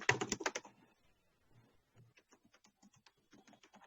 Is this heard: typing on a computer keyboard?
yes